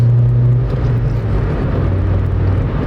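The four-cylinder engine of a 2000 Honda Civic Si (EM1) drones loudly and steadily from inside the car while accelerating to traffic speed, a low constant hum with road noise and no talking.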